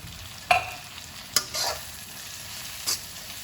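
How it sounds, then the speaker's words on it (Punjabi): Paneer frying lightly with cooked masala in a pan, a soft sizzle under three distinct scraping stir strokes from a spoon, fairly quiet and close, with no speech. "ਪਨੀਰ ਪਾ ਕੇ ਅਸੀਂ ਇਹਨੂੰ ਜ਼ਿਆਦਾ ਨਹੀਂ ਫਰਾਈ ਕਰਨਾ ਹਲਕਾ ਜਿਹਾ ਹੀ ਕਰਨਾ"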